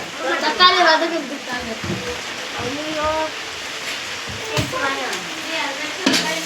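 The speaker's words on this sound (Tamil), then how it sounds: "தக்காளி வதங்கிறதுக்காக" Tomatoes sauté for biryani in a pan, a steady sizzle and frying hiss with occasional stirring scrapes, heard under people talking.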